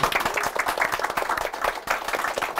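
Studio audience applause for the MCs at the close of a live Korean business talk show, brisk clapping from a modest crowd, close and continuous with a few sharper individual claps standing out.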